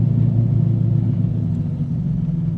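A widebody C5 Corvette with an LS7 swap cruises with a steady, loud low engine rumble, droning evenly throughout without any talk.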